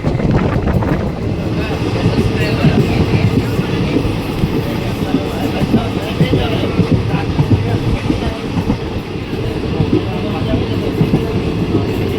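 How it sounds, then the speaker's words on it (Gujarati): A train arrives and runs along the rails near Khijadiya railway station on the Lathi to Junagadh line, a steady loud rumble with faint clickety-clack and wind buffeting throughout. "તો ટ્રેન આવી ગઈ છે"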